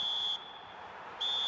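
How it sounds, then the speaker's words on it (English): A referee's whistle in the eFootball video game marks half-time with two sharp, steady blasts, one at the start and one at the end, separated by a brief pause over a low crowd murmur. "And there is the half-time whistle"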